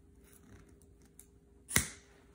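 A strip of foam, three-quarters of an inch wide, is cut to length for a homemade paper-cup respirator: one sharp, quiet snip comes near the end, after near silence.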